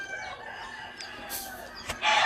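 Gamefowl rooster crowing rises faintly in the distance, with a louder, brighter call near the end against a steady background hum.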